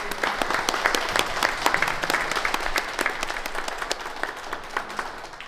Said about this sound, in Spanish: les pido un aplauso para recibir a nuestro gran amigo